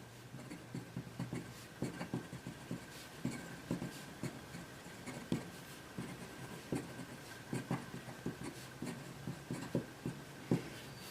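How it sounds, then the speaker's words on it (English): Scratchy, rhythmic strokes of a Baoer 388 fountain pen writing on paper, close and quiet, with short bursts of nib noise separated by brief pauses and no talking. "And now you get to see how horrible my writing is."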